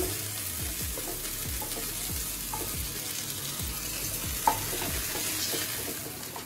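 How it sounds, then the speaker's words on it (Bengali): Pointed gourd (potol) frying in oil for a potol korma, a steady close sizzle with repeated soft stirring knocks and one sharp clink near the end. "পটলগুলো কিন্তু আমার এখন ভাজা হয়ে গেছে"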